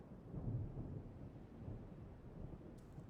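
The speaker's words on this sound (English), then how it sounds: "rumbling in the clouds. Every now and then a flash of lightning within the clouds that illuminates the area." Thunder rumbles low and continuous in the clouds during a storm, a steady distant growl without sharp cracks, soft and unbroken throughout.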